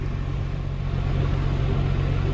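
A tuned 2014 Nissan GT-R Premium with a Nismo body kit runs hard on a dyno pull, its loud, deep engine roar holding a steady drone throughout with no one speaking.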